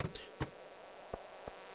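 A fly in the Stardew Valley video game buzzes faintly in short bursts, roughly four quick buzzes spread over under two seconds, with no talking.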